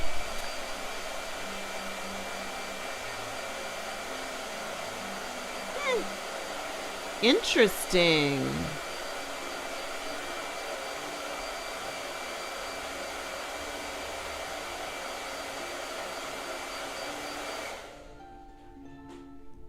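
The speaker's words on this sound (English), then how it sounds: "Blow dryer." A blow dryer runs steadily for about eighteen seconds as a constant whirring hum, then cuts off, while a brief spoken word and a short squeaky burst come through in the middle.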